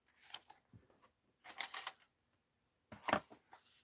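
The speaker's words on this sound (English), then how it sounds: "Now I'm going to cut him out" Scissors cut out a paper figure in short, crisp snipping bursts, three separate clusters of close, quiet crunching cuts separated by pauses.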